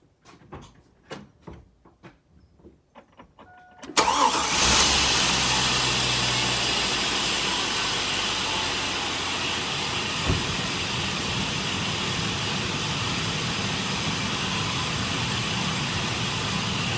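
A 2001 Chevy Suburban engine cranks and catches after a few seconds of quiet clicks and handling noises, then settles into a loud, steady idle that continues to the end, with no one speaking.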